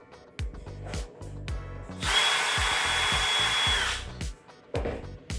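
A power drill spins out screws while repairing a UDR part, sounding in short repeated whirring bursts with one longer sustained run in the middle, close and fairly loud with small clicks between.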